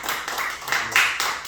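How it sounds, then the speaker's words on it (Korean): Church congregation clapping together during a Wednesday worship service, a dense run of hand claps with a few louder bursts, no speech over it. "박수 한번 치세요. 박수."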